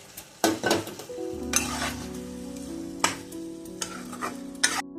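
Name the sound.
coriander and cumin spice paste frying in a pot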